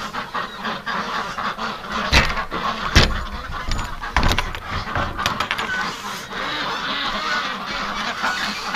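Farm ducks quack and honk repeatedly nearby, a busy overlapping chorus of calls with a few sharper honks standing out over steady background noise.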